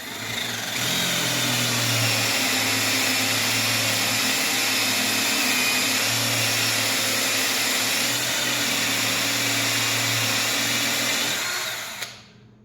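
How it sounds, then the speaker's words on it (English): A power drill bores through a wooden ring, running continuously at steady speed for about twelve seconds, a loud whining motor with no pauses, then it stops. "I know my ring is plenty big enough for me to drill this all the way through"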